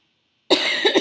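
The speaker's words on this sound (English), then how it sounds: "Sorry for my cough." After half a second of silence, a person lets out a sudden, close cough with a couple of rough follow-up bursts.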